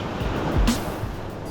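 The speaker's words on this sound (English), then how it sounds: "where the waves are breaking." Ocean surf breaks on New Brighton Beach in Santa Cruz County with a continuous rushing wash, one louder crash swelling near the middle, and wind buffeting the microphone throughout.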